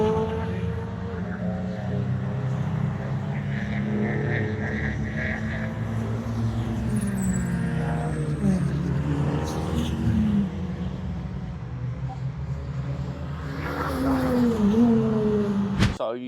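Supermodified race car running on a track, its engine droning steadily with shifting pitch, rising and falling as it revs, fairly close with a surge near the end.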